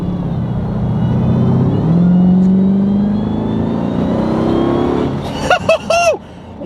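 A 1000-horsepower Dodge Durango Hellcat accelerating, its supercharger whining in a rising tone over a loud engine roar, then easing off into a few short rev bursts near the end.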